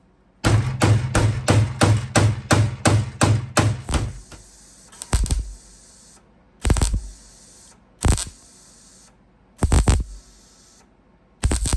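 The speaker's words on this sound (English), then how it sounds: "Once I get it tacked firmly, I use the hammer to make the shape." A hammer strikes sheet metal on a VW Beetle body panel, first a rapid run of about a dozen sharp ringing blows, then single loud hits spaced a second or two apart, close and clear.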